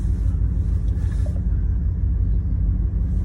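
A Triumph Stag car on a long drive through mid Wales gives a steady, loud low engine and road rumble from inside the cabin, continuous throughout without talk.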